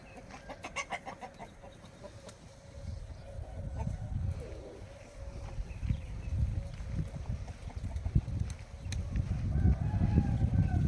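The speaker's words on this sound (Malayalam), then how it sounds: "ഇവിടെ കോഴികളൊക്കെ കാണാം പറമ്പിൽ" Free-ranging chickens in an open farm plot cluck and call faintly at a distance, mixed with low rumbling background noise throughout.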